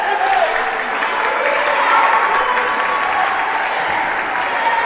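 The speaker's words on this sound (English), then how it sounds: "And Waller gets a round of applause." A gym crowd at a boys' middle school basketball game applauds player Waller as he leaves the floor, a steady, fairly loud wash of clapping with some indistinct voices mixed in.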